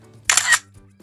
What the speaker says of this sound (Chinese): 按下快门吧。